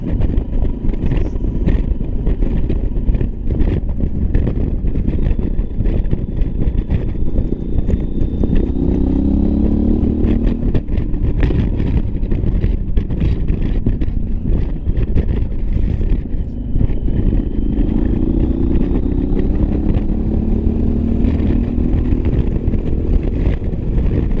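A Yamaha XT1200Z Super Tenere motorcycle engine drones steadily while riding on a high moor, its pitch rising and falling with gear changes, buffeted by heavy wind noise on the microphone.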